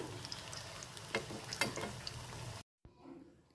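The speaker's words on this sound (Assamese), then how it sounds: "এতিয়া এইখিনি কম জুইত অকণমান সময়ৰ কাৰণে মচমচীয়াকৈ ভাজিব লাগিব" Food frying until crisp in a pan over a low flame, a steady close sizzle with a few brief stirring clatters, then cutting off abruptly near the end before a quieter tail.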